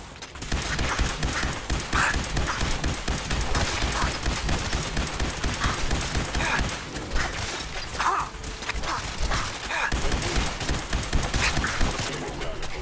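Dense gunfire erupts in the video game Fallout 4, a rapid, continuous barrage of overlapping loud shots with crashing impacts throughout.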